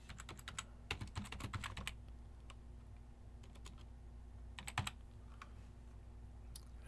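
Keys clack on a computer keyboard as a zip code is entered, in two short quick bursts of taps separated by a quiet pause, close and fairly soft.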